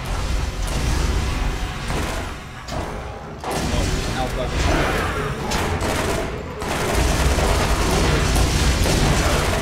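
Loud, dense gunfire from the video game Borderlands, with rapid shots, booms and explosive bursts rolling almost continuously, pausing only briefly a few times before resuming.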